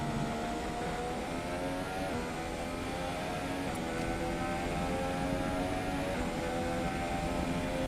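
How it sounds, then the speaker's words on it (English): In the F1 2017 video game, the Ferrari engine of the Haas Formula 1 car whines at high revs, a steady, fairly faint drone that rises and falls slightly, with no talk. "So that is what the new 2017 cars sound like in the game, or at least the Ferrari engine in the back of the Haas car"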